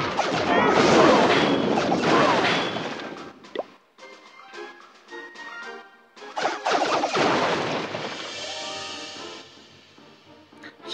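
Clash of Clans video-game troops smash through a TH8 base's buildings in dense bursts of crashes, thuds and plops, pausing briefly midway before another wave of destruction.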